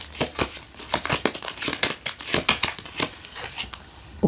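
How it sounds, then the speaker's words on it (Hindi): Tarot cards being drawn and handled during a reading, giving a close run of crisp crinkling, rustling and snapping card sounds in quick irregular bursts, with no talking. "So I'll take out some cards."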